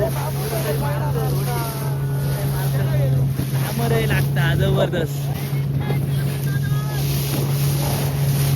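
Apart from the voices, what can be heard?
motorboat engine running at sea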